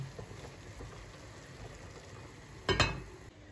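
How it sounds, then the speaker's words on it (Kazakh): Meat and lungs for kara kuyrdak fry in a pan, a faint even sizzle throughout, interrupted near the end by a brief louder clatter. "Етіміз қуырылып жатыр."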